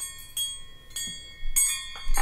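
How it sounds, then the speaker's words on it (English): A novelty wind chime decorated with little boys and rocks rings in a few separate bright, metallic strikes, each tone sustaining and decaying in a quiet room with no talking. "Have you ever seen a wind chime like that?"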